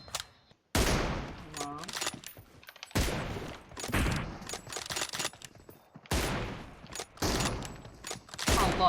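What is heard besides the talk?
gunfire in PUBG Mobile, a video game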